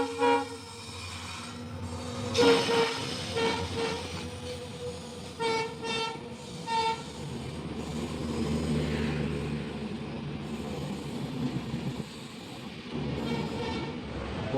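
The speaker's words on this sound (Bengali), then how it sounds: "একটা ট্রেন থ্রু পাস করবে, সেই জন্য আমাদের দাঁড় করে রেখেছে।" The Mumbai LTT–Dibrugarh express rushes past a halted train, its horn blaring in several loud blasts early on, followed by a sustained rumble and clatter of passing coaches.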